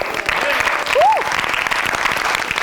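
A studio audience at a television game show claps in sustained, dense applause throughout, with a brief rising whistle or voice cutting through near the middle.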